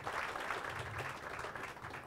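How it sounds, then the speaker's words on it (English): Applause from an audience at an official public event unveiling riverfront development plans, a dense steady patter of many hands filling the space, moderately loud and continuous throughout with no voice over it. "And give them a round of applause again."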